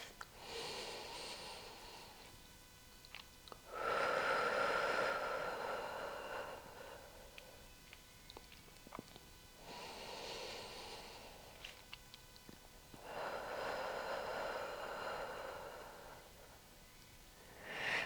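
Slow, deep breaths during a yoga hold, each long airy inhale and exhale swelling and fading in a steady cycle, close and soft with quiet gaps between.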